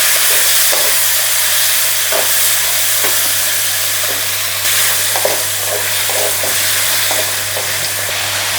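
Tomatoes fry in a pan for an egg kurma, giving a loud, continuous sizzle and hiss with occasional stirring scrapes and a low steady hum underneath; no one speaks.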